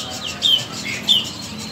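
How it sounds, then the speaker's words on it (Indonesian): Laying quail give two short, high squawking calls about half a second apart, fairly close and clear over a quiet background. "di depan kita ini ada burung puyuh tuh. Banyak ya."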